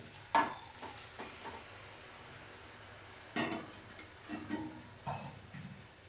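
Drumstick pods dropped into softened tomato masala in a pan: a few quiet clatters and thuds as the pods land, with soft stirring and a low sizzle between them, with no talk.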